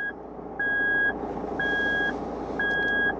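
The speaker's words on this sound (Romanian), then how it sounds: "Acest sunet pe care îl auziți este făcut de sistem care ne avertizează că nu am operat corect trecerea din 4LO în 4H" Repeating warning beep from a Toyota Land Cruiser 150 with the 3.0 D-4D, signalling a wrongly completed shift from 4LO to 4H: three steady half-second tones at an even rhythm over a low engine hum, close and clear.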